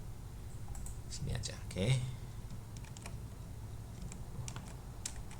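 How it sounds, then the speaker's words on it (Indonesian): Typing on a computer keyboard while entering stock data, heard as quick, quiet clusters of key clicks and taps, with a few brief spoken words partway through. "kita copy, lalu kita ketik di sini"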